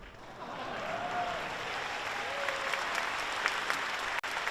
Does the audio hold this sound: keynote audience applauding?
yes